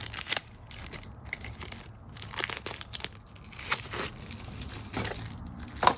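Paper crinkles and crumples in several bursts, close and fairly quiet, with short pauses between the rustling handling sounds.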